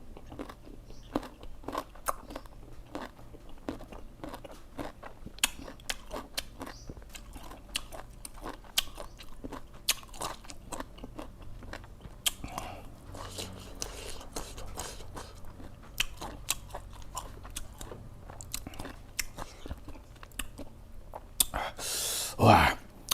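Someone bites and chews crisp, fresh Kaew mango, with sharp crunches and wet chewing repeating close to the mic in an irregular rhythm, a few breaths between bites and a louder burst of crunching near the end.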